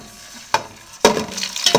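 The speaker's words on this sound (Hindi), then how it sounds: "सब्ज मिर्चों को मीडियम फ्लेम पे 1 मिनट फ्राई कर लेंगे।" Chopped green chillies fry in oil over a medium flame, a soft sizzle broken by a few sharp stirring clatters against the pan.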